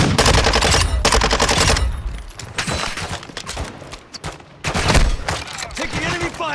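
Bursts of automatic enemy gunfire in Call of Duty: DMZ, loud close rattling volleys at the start, then scattered shots and renewed bursts, with voices talking between them.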